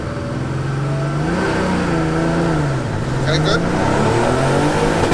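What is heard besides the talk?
old school Porsche 911 Turbo race car accelerating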